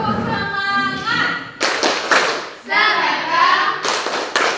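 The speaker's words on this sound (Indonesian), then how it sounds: "Tepuk semangat." Students in a classroom do a rhythmic spirit clap as an ice-breaker, with bursts of sharp clapping in patterned groups alternating with children chanting and talking.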